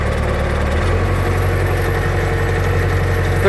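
A Kubota tractor fitted with a snowblower idles steadily just after starting, its low, even engine rumble running alone and unbroken throughout.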